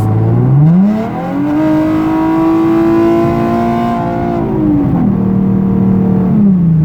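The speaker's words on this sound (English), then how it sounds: "the car is so loud that I feel like when I get on the throttle" A Nissan 370Z engine revs hard under throttle from inside the car: a loud, rising engine note climbs steeply, holds a strong steady howl, then drops back through the gears, with no talking.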